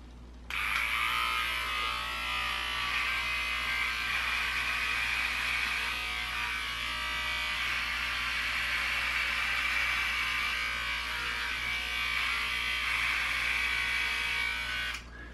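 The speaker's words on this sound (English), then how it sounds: "let's shave this beard" An electric shaver buzzes steadily while taking off a five-week beard, a close, continuous high-pitched whine that starts abruptly, holds level with slight wavering as it moves across the face, then cuts off sharply near the end.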